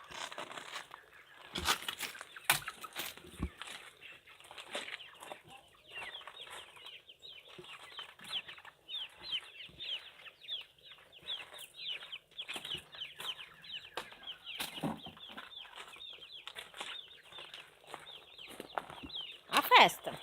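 A flock of chickens pecks at corn and feed, giving off soft scattered clucks and low murmurs along with rustling and crinkling. Voices of people talking can be heard at intervals over the close, busy sounds of the birds.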